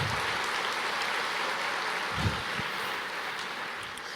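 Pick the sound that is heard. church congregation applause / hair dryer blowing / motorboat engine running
church congregation applause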